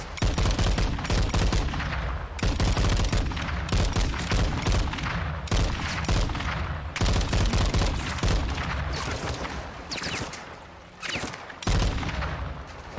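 Dense, sustained gunfire in a Modern Warfare 2 (2022) firefight in South America, with rapid bursts and fusillades rolling almost continuously, loud and close, with a brief lull near the end.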